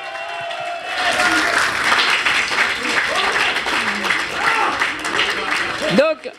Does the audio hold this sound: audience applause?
yes